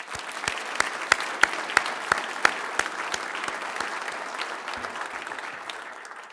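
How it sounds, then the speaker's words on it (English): An audience at an awards ceremony applauds, with rhythmic, evenly spaced claps standing out over a dense bed of clapping that gradually fades. "So please indulge me in giving everyone that worked on this event a big round of applause."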